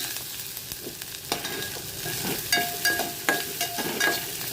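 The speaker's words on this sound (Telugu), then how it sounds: "ఇదిగోండి కొంచెం పసుపు వేసి తిప్పుతున్నాను." Onions frying in a pan as turmeric is stirred in, a close continuous sizzle broken by repeated scraping and clinking strokes of the spoon, with no talk.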